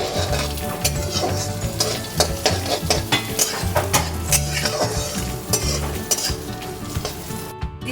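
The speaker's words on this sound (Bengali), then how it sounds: "দিচ্ছি কাজু বাদামগুলো, হালকা স্টির করে নিচ্ছি" Cashews and raisins fry in a pan for basanti pulao, stirred with a utensil. A steady sizzle runs under repeated metal scrapes and clinks against the pan, close and fairly loud.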